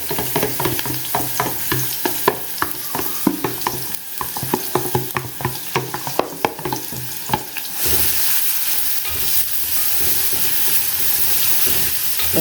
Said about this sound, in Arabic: تشويحه جامده يعني بتاعتنا كده اللي بتخلي الروايح الجميله تطلع